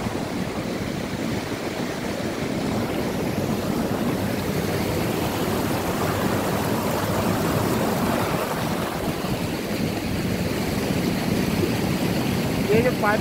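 A fast mountain stream of clear water flowing down from Kailash near Kedarnath, a steady broadband rushing roar close by, continuous and loud, with a voice speaking over it.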